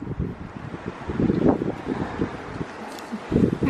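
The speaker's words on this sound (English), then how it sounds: "It's so windy." Steady gusting wind buffets the microphone with low rumbling noise, rising and falling throughout, with no clear speech over it.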